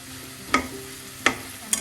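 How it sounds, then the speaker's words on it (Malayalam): Carrot mezhukupuratti stir-fry cooking down in a pan on high flame, with three sharp stirring scrapes against a soft steady sizzle, fairly close and alone. "ഈ സമയം നമുക്ക് ഹൈ ഫ്ലെയിമിലിട്ട് ഒന്ന് വറ്റിച്ചെടുക്കാം."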